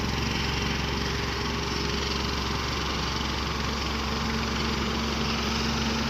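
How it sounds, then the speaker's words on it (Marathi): Engine of an LR50 JCB machine running while deepening a farm well, a loud continuous droning hum at steady pitch, close and unbroken. "LR50 नावाची मशीन आहे"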